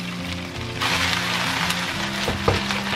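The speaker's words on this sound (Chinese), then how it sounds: "我们就给它翻一个面，然后继续煎。" Chicken wings pan-frying in oil over medium-low heat produce a steady close crackle and sizzle, with soft tonal hum underneath and a brief sharper pop near the end.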